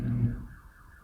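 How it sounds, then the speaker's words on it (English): A neighborhood car alarm sounds briefly and steadily at moderate distance, a continuous electronic tone that fades slightly toward the end, with no talking over it. "one of the alarms in our neighborhood ran for like 5 minutes straight"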